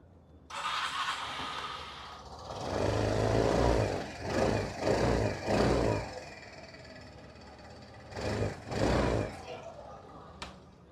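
A 2026 Suzuki Access 125 scooter engine starts and settles into a steady idle, close by and fairly loud, with several bursts of revving partway through and someone talking briefly over it.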